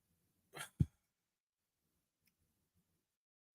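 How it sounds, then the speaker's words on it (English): A single sharp sneeze sounds close by, a quick breathy burst followed by a heavier thud, then near silence. "This is like the sixth time I'm sneezing, bro."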